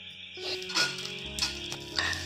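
Green chillies roast in a hot pan, giving soft intermittent sizzling and crackling bursts that rise and fade against a quiet kitchen background.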